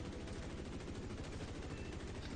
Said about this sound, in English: And get wrecked by the cannons.